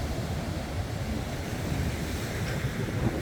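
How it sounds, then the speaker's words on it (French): Steady rushing wind buffeting the microphone outdoors at Roquetas de Mar, Spain, a constant low roar without pauses and no voices. "il y a un peu de vent"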